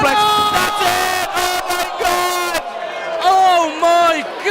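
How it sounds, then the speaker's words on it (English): A packed crowd at a live CCW wrestling show in the Kino roars and cheers loudly and continuously, with shouts and whoops rising in bursts, mixed with excited voices throughout. "The crowd are on their feet here in the Kino."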